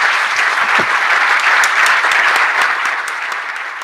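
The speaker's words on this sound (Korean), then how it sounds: "여러분 감사의 박수로 오늘 대화를 마치겠습니다" An audience at a church leaders' retreat breaks into sustained applause of thanks to close a talk, a dense, even wash of clapping that stays loud and fades slightly at the end.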